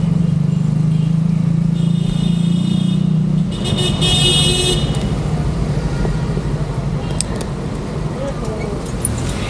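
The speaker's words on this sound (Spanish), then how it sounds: "¡Qué tráfico!" Busy Mexico City street traffic heard from a bicycle, with a steady roar of cars and engines, a low engine drone easing after a few seconds, and short horn toots scattered through.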